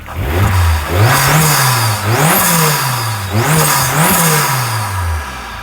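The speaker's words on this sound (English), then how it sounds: "That's why you'll hear the turbo spooling a little bit better." An Opel Astra GSi's turbocharged engine revs repeatedly in quick bursts, each rise followed by a hissing turbo whoosh, loud and close.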